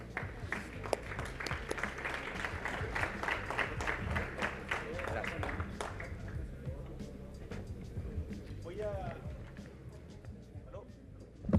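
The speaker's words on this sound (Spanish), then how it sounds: "Un aplauso para todos ellos." An audience applauds a panel at a smart-cities summit in Chile with dense clapping that fades after several seconds, leaving scattered claps and faint voices in the room.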